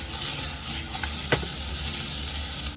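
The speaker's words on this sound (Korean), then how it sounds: "마늘 맛을 배겨주기 위해 미리 조금 볶아줍니다" Garlic and vegetables sizzle steadily in a hot frying pan, with a brief clink of a utensil stirring partway through.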